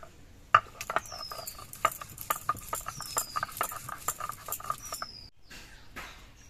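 Cashew nuts and melon seeds being ground together into a fine paste, with soft, quick rhythmic knocks and scrapes repeating close by at a low level, no speech.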